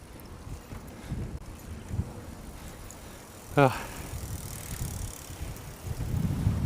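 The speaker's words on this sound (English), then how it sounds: "Oh, there's that wind." Wind buffeting the microphone during a bicycle ride in San Francisco, a steady low rumble throughout with a brief sharp sweep midway and a voice speaking over it.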